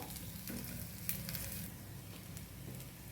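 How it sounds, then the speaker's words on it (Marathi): Rice grains fry in hot oil in a pan over lowered heat, giving a steady, moderate sizzle with light scraping from stirring and one brief clink near the middle, with no voices. "तांदूळ पण परतून द्यायचे तेलामध्ये आपल्याला"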